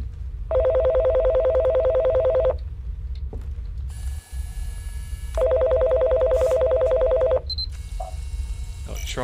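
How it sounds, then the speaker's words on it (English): A phone rings inside a free-roaming horror video game, two long electronic ringing bursts separated by a pause, loud over a low rumbling game ambience with other electronic tones between the rings. "It's a phone."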